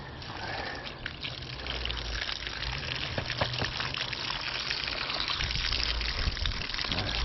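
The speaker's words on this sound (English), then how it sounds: "the first thing we're going to do is rinse this out." Water runs steadily from a hose as debris is rinsed out of an automatic three-motor pool cleaner in a backyard, a continuous close splashing and trickling stream that grows slightly louder over time.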